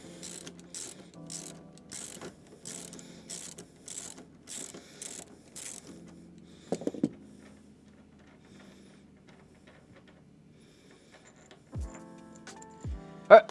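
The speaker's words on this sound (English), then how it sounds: "So now we can go ahead and go into lefty-loosey mode and get our bolts out of here." A hand ratchet loosens bolts from a Sprinter van floor, clicking in quick, rapid bursts of pawl ticks, then pausing before a couple of sharper mechanical clunks and one final loud knock, all close by.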